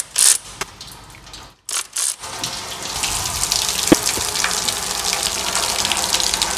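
Coolant water from a car water pump spatters and gushes into a drain pan beneath a 2013 Range Rover Evoque 2.2 DW12 Duratorq engine, starting with a few splashy bursts and brief gaps before settling into a steady close pour.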